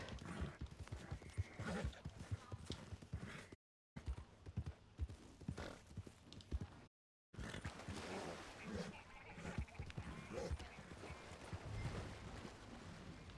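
Horse hooves clip-clop steadily in a video game, with occasional whinnying sounds, broken by two brief silent gaps and running continuously beneath busy game noise.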